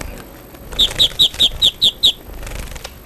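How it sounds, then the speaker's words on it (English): A finch held in a hand chirps seven times in a quick, evenly spaced run of bright, close, loud tweets, set against faint background noise with no talking. "This bird is called finch."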